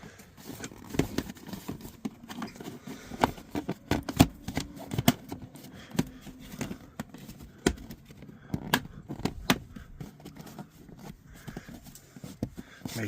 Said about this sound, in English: And now I'm gonna slide this plastic cover on.